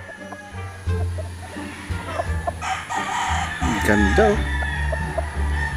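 A seven-month-old stag gamecock at a game farm crows loudly and close, with clucking and other fowl around while people talk nearby.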